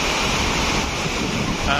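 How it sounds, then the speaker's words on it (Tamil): Water crashes down at the Courtallam waterfall in India, a loud, close, unbroken roar with a windy rush blending into it. "சூப்பராக தண்ணி விழுற அழகாக பாருங்கள்"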